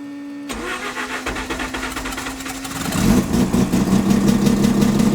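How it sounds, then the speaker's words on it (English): A rebuilt rotary engine in a first-generation Mazda RX-7 cranks with a steady starter whine, then catches and fires into a louder, choppy, uneven running note, close and alone. "So the startup's not the best, but it's gonna get better in time."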